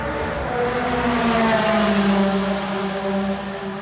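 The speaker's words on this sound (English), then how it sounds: "Ferrari, I don't know if that's the California or that's like the newer, like the F12 or something." A Ferrari sports car at the Monza circuit passes with a rising and falling engine wail, a sustained rasping tone that peaks mid-pass then fades as it moves away.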